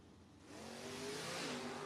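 Camaro drag race car launching off the line at a drag strip, its engine rising from near silence into a sustained, climbing roar at moderate, somewhat distant level.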